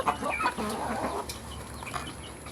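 Chickens cluck in a farmyard among newly arrived birds from Guihulngan, with a tethered rooster nearby; a few close, moderately loud clucks and scratchy calls sound over steady background noise, with no talking.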